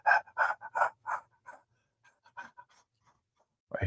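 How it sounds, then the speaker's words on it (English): A dog pants quickly in short rhythmic breaths during a thunderstorm, loud at first and then quieter and more scattered. "the panting dog, so I know it's coming"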